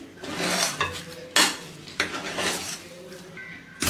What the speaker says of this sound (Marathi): त्याच्यामध्ये आपल्याला बारीक चिरलेली कोथिंबीर टाकून घ्यायची आहे आणि व्यवस्थित मिक्स करून घ्यायचं आहे एकदा।